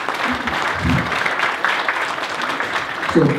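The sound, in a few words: audience applause at academy graduation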